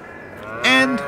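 A dairy cow gives one short, clear moo close by. It rises out of a steady low background hum and holds for about half a second.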